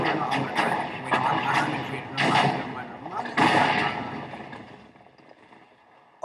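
Several deep booming blasts of TNT exploding in Minecraft, each rumbling burst spaced about a second apart and fading away toward the end, with a voice talking over them.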